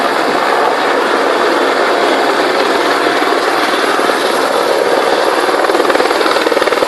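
A helicopter hovers close overhead during a winch rescue, a loud continuous rotor thrum with rapid rhythmic chopping that grows slightly more pronounced near the end.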